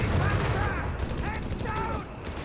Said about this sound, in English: a lot of mortar bombs falling upon the Italians inside town